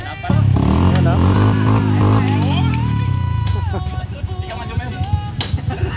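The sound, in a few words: old motorcycle engine running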